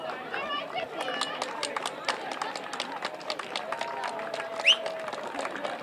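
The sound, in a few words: audience applause for both teams after a match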